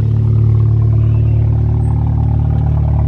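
A loud car engine idling close up in a full car park, a steady low rumble with a strong droning hum that holds evenly throughout, no talk over it.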